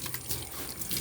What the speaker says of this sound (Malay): Ini adalah paip kerajaan